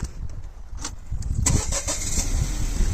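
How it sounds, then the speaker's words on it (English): A Vauxhall Crossland 1.2 130hp automatic's engine cranks briefly at the push of a start button and catches, then settles into a steady idle, heard up close. "you put your foot on the brake, you press the start button"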